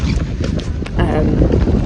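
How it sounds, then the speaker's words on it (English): Gusty wind buffets the microphone with a low, rumbling roar while someone talks underneath. "If it's windy as well, I hope you can hear me."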